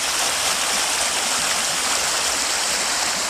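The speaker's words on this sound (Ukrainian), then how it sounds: "Брудні та каламутні потоки, спінившись, стрімко вливаються у річку." Dirty, murky, foaming streams pour fast into the Dnipro river, giving a steady, loud rush of water that stays even throughout with no pauses.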